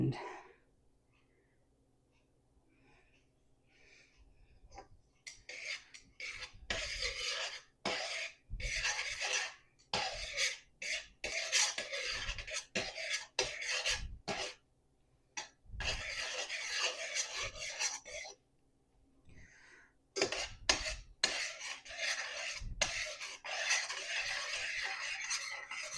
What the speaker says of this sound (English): now that the butter has melted completely and it's starting to bubble a little bit